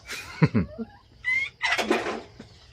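Chickens cluck and call nearby in a few short, separate bursts against a quiet background, with no talking.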